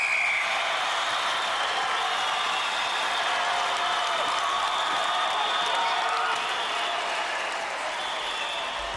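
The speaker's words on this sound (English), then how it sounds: "The crowd love it." Gladiators TV studio crowd roaring and applauding during a 1993 tug-of-war style event, continuous loud cheering with whistles and clapping that stays dense for the whole stretch.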